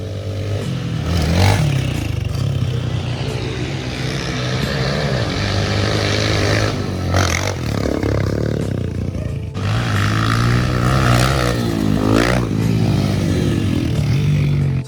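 A motorcycle being ridden, its engine roaring loud and close with rising and falling revs as it shifts through gears, wind noise mixed in.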